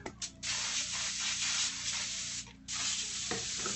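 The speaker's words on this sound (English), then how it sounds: "Let me just rinse this out real quick." Water rinses out a paint container between colours, a steady hissing wash that runs broadly and unbroken with a couple of brief pauses and splashes.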